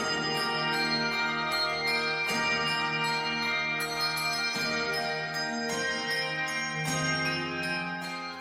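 A handbell ensemble playing Malmark bells rings out in sustained, overlapping chords, bright bell tones layering and decaying continuously without voices.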